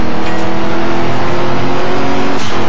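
A Nissan Skyline's 2.6-liter RB26 inline-six revs in the racing game Midnight Club 3, a loud, steady, high-pitched engine drone held near the limiter with a brief dip near the end.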